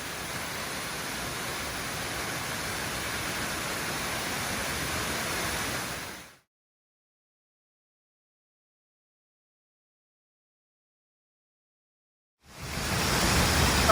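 A waterfall in Tasmania's Huon Valley rushes in a steady, broadband roar for about six seconds, then cuts to silence before the roar returns at the end.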